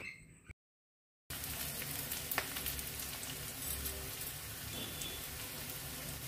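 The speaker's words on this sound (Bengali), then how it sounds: "পেঁয়াজ বেশি ভাজার দরকার নেই, হালকাভাবে ভেজে নিলেই হবে।" Onions fry lightly in a pan, giving a steady, close hiss of sizzling oil with faint crackles and an occasional soft tap, after a brief moment of silence.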